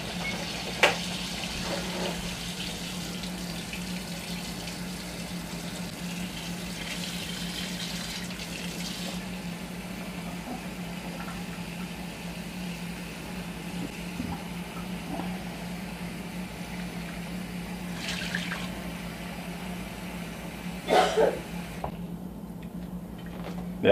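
Warm tap water runs steadily into a container at a kitchen sink, a soft continuous pour with a low hum beneath and a few brief clinks and knocks near the end, no talking.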